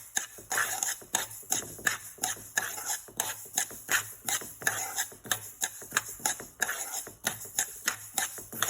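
Mustard seeds dry roasting in a pan for a homemade chilli pickle, heard as a close, steady run of rapid stirring scrapes and rattling clicks, uneven and busy throughout, with no voices.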